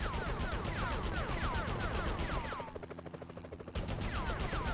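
Rapid gunfire from the PS1 Spider-Man video game, a dense rattling burst of shots repeating in quick rhythm, dropping out briefly before resuming at a steady, moderately loud level.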